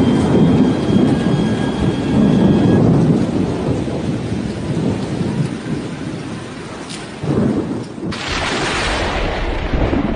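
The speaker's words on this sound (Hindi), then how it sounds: "ये शोर है उम्पुन तूफान का" Roaring winds of Cyclone Amphan in West Bengal and Odisha blow with heavy rain, a loud, constant rushing roar with low rumbling, a sharp burst near the end.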